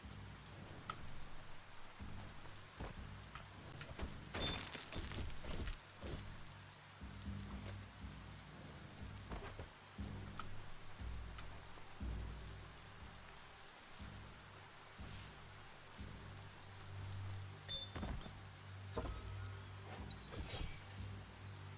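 Steady rain falls in a video game (Biomutant) with a constant wash of drops, punctuated by occasional louder patters and crackles, no voices.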